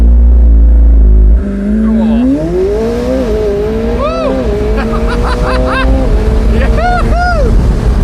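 A car in launch mode goes to full throttle, its engine pitch climbing steadily through several gears with distinct upshift drops, loud and close, after a brief heavy idle rumble.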